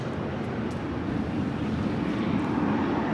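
A jet airliner, likely the Dreamliner bound for Tel Aviv, is taxiing or taking off from the south side at LAX, a steady broadband engine roar with wind noise, constant and moderately loud.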